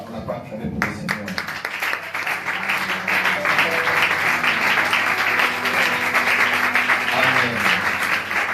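Church worship congregation breaking into sustained applause for the Lord, building after a brief opening and staying loud and dense throughout, with voices shouting and talking beneath the clapping.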